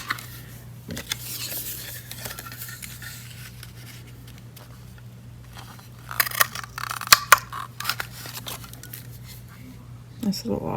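Scissors trim paper for a vintage Valentine card, making soft snips and paper rustles and scrapes under a steady low hum, with a few sharper cuts in the middle.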